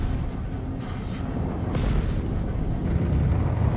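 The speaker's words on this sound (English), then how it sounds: "Kaboom! Target destroyed." Explosion of a destroyed target in a video game, a deep rumbling boom that swells and rolls on continuously, with a brighter crackling burst near the middle.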